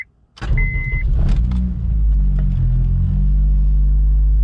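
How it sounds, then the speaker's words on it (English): A Honda Civic EM2 with a swapped K20 engine and aftermarket exhaust cranks and fires up, then settles into a loud, steady low rumble as it idles cold. "Just a little cold start."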